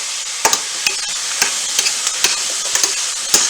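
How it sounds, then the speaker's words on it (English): Pork, pepper and zucchini cook in a pan with a soft continuous sizzle as a utensil stirs them, giving sharp scraping clinks at an irregular pace. "Give everything kind of a good stir."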